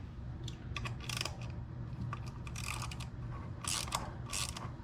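A ratchet wrench loosening a bolt on a Vance & Hines VO2 air intake on a motorcycle, quick bursts of close metallic clicking in several short runs over a low background hum.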